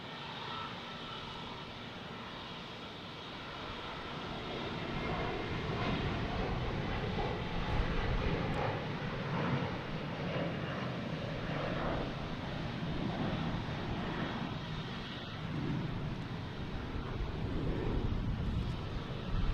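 A Delta airliner, flight 5644 bound for Baltimore, taking off from Boston Logan, a rising roar of jet engines that builds and stays loud and sustained, with some wind buffeting the microphone and no voices.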